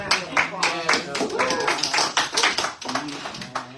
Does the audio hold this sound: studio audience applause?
yes